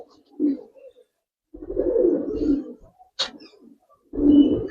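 Pigeons in a loft of old-breed pearl-eyed birds give low, throaty coos in three separate bursts with short quiet gaps, close to the microphone and with no speech over them.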